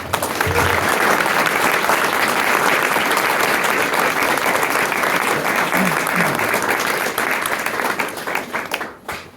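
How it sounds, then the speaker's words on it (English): A crowd gives a round of applause at the Fort Ancient UNESCO World Heritage commemoration ceremony, dense sustained clapping that holds steady for several seconds before fading out near the end. "if we could please give a round of applause for these folks."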